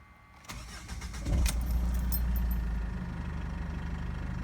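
A 2005 Jeep Liberty CRD diesel cranks briefly and catches after a new ECU is fitted, then settles into a steady, slightly clattery idle, recorded close by with no talking.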